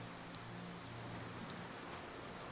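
Steady rain falls at a seaside wharf in a quiet, soft ambience, a continuous fine patter with occasional brighter drips and a faint low hum underneath, no voices.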